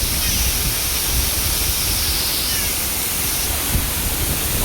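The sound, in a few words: waterfall at Kuttikkanam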